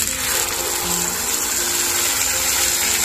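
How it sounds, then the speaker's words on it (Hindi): Water poured into a mixer grinder jar while cooking a Rajasthani guava curry, a steady gushing, bubbling stream lasting about three seconds, close and fairly loud, with no talking. "इसी मिक्सी जार में थोड़ा पानी डाल देंगे।"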